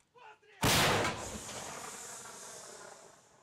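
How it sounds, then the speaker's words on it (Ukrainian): A 2S1 self-propelled howitzer fires a single shot, a sudden loud, close blast that decays into a long rushing, rumbling tail; brief faint voices are heard before it. "постріл."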